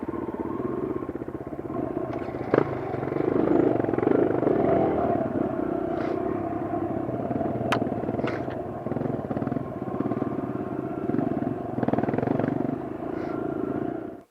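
A small dirt bike engine, a Kawasaki KLX, drones steadily and fairly loud throughout, with a brief clank near the start, then cuts off at the end.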